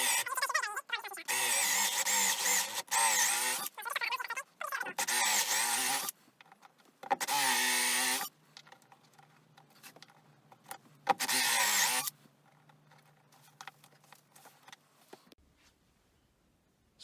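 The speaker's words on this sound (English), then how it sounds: "So we'll now drill the hole." A power drill boring a hole through a wooden campervan cupboard for an LED light: several loud, high whining bursts of the motor biting into the wood, separated by pauses with handling clicks and a quieter tail.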